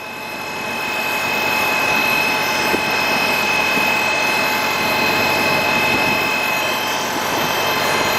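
A Farmall Cub tractor engine runs steadily at about half throttle, driving a Surge milker, with a constant loud mechanical drone and a thin tonal whine throughout and no talking.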